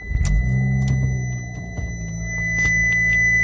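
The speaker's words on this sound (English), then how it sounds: "Starting the car right up after spraying out the engine." A car engine cranks and catches right after the engine bay was sprayed down with a garden hose, settling into a low idle rumble with a steady high electronic tone running alongside, close by.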